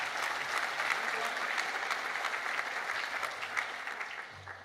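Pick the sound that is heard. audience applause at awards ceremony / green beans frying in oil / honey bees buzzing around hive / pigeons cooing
audience applause at awards ceremony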